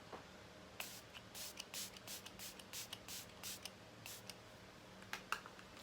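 Repeated short hissing bursts of a makeup setting spray bottle, a dozen or so quick pumps in an irregular rhythm, close and fairly quiet.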